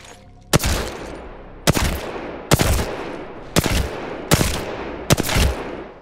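Six sharp, loud gunshots crack out at an even pace in the battle-royale game Apex Legends, each shot dying away in a short tail before the next, with no talking.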